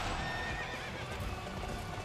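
A horse whinnies and gallops with rapid clip-clop hoofbeats in Dynasty Warriors 8 Empires, all close and steady, with no talk over it.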